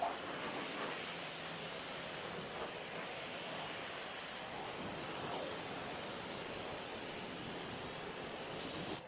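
Water sprays steadily over very dirty car floor mats during a rinse, a constant broad hiss heard alone at moderate level.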